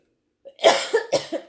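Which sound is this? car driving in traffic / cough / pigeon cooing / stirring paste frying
cough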